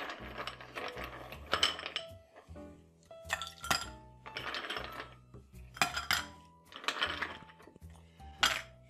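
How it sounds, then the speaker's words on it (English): Ice cubes dropped into a cocktail glass for a tequila cocktail with muddled lime, giving repeated bright clinks and rattles in close, uneven bursts with no talking. "now we need some ice."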